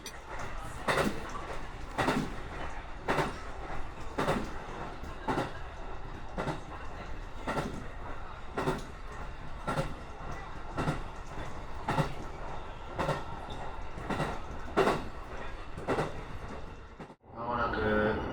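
Train rolling on rails heard from inside a carriage, with a regular clickety-clack of wheels over rail joints repeating about once a second, steady rumble beneath, and a brief change at the end.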